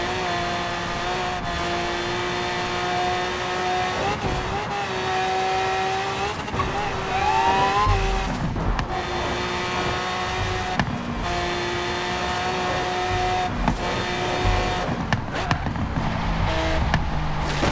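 A fast car roars at high revs in Forza Horizon 3, engine pitch shifting with gear changes and punctuated by brief tire and impact noises, loud and continuous.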